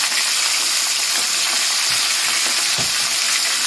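Fish frying in a pot of hot oil for Jamaican brown stew fish, a loud, dense, continuous hiss and crackle with a few brief pops, no voices over it.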